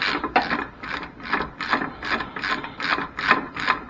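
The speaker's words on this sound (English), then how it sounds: "Very important to make sure that that foot is in place before you start cranking down on the nut" A ratchet cranks down an engine mount nut on a 2004 Ford Focus Zetec, giving about ten steady, evenly spaced rasping clicks in a close, moderately loud run with no talking.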